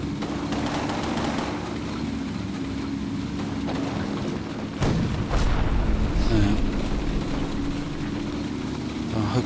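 In the Combat Mission war game, tank cannon fire and explosions boom through a constant dense roar of battlefield rumble, with one louder blast near the middle and a few further thumps, loud and continuous with no talk over it.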